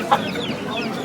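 A chicken gives a single short cluck at a busy village animal market, close and brief, over a low murmur of crowd background.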